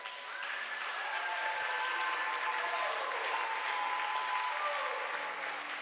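Sustained applause from a church congregation at a Sunday service, a steady wash of many hands clapping at moderate distance with no talk over it.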